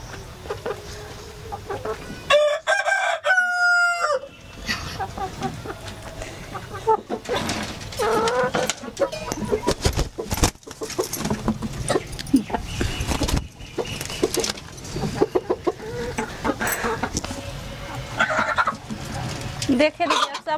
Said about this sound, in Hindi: सब मुर्गी के ला कर रख दिए